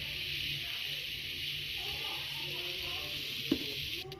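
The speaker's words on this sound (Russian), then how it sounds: "А у меня тут уже компотик закипает." A steady sizzling hiss of compote coming to a boil, continuous and close, with a brief clink near the end.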